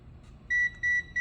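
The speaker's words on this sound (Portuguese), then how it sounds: "E ele dispara um alarme." Alarm of a Mestek DM 100C digital multimeter set to measure current: three loud, clear, high-pitched electronic beeps in a steady pulsing rhythm, close by, following a quiet moment.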